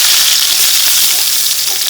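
Onions frying in hot wood-pressed coconut oil as the base of a home-cooked chicken dish give a loud, close, steady sizzling hiss without a break.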